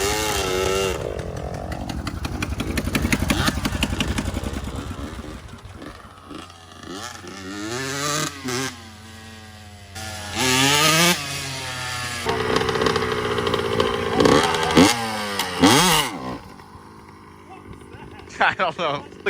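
A motorcycle engine revs hard again and again, loud and close, rising and falling in pitch, with people talking and shouting around it.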